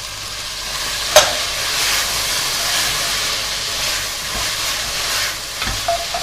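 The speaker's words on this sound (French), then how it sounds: "Je vais déglacer avec du vinaigre balsamique." Onions sizzle hard in a casserole as balsamic vinegar is poured in to deglaze, a loud steady frying hiss with a brief sharp burst of spatter near the start and soft stirring scrapes.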